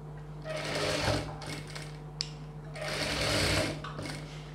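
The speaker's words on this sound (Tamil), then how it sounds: "டபுள் ஸ்டிச் போட்டுக்கலாம், ஜாயின் பண்ணது எல்லாமே டபுள் ஸ்டிச் போட்டுக்கலாம்" A sewing machine stitches a seam on a boat-neck blouse, running in two steady whirring bursts with a short pause and a faint click between them, no voices over it.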